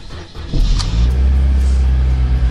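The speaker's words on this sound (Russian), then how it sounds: "сейчас надо завести тачку" A car engine cranks briefly in a garage, then catches and settles into a loud, steady low idle rumble close by.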